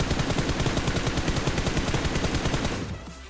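Rapid automatic gunfire sprayed in a first-person shooting video game, a loud, dense burst of evenly spaced shots that continues for nearly three seconds and then cuts off.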